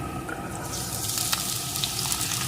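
Drumstick stalks frying with potatoes in a pan, producing a continuous close sizzle and bubbling hiss at steady loudness with faint crackling pops.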